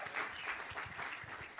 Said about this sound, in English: Give a round of applause, Bereket,